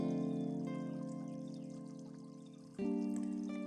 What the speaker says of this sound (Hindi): अब थोड़ा सा पानी इसमें शामिल करके इसको कवर करके पकाएंगे